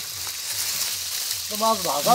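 Mutton sizzles in hot oil at an outdoor picnic, giving a continuous crackling hiss, and a voice speaks over it toward the end.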